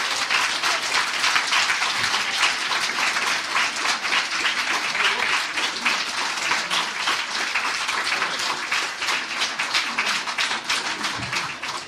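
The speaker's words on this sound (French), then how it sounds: "Allez, on les applaudit encore une fois." An audience at a closing ceremony for a youth image event applauds at length, a loud, sustained mass of clapping with some sharper individual claps standing out, steady throughout and without talk.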